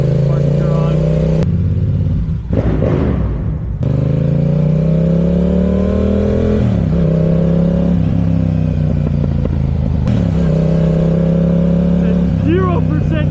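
Yamaha R7 motorcycle with a Yoshimura R-77 race exhaust riding on wet roads toward a parking garage, engine droning loud and steady as it revs up and shifts, close and dominant throughout, with a voice occasionally talking over it.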